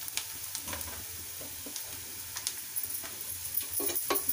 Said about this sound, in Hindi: ये ऑनियन थोड़ी सी फ्राई हो गई है,